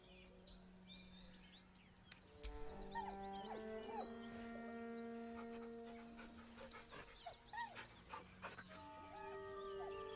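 A dog whines in the video game Baldur's Gate 3, giving soft pitched whimpers and panting over layered game music and ambient tones, with no talk.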